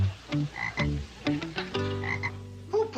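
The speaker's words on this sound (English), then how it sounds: "Who put this ugly frog on my desk?" A frog on an office desk in a classic sitcom scene gives a string of close, throaty croaks in uneven bursts, with short pauses between calls and no one speaking.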